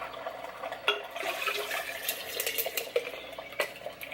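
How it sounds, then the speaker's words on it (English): Coffee splashes and trickles into a bigger container amid clinking of ice or dishes, a continuous close pouring sound with occasional knocks. "and pour it into a bigger container"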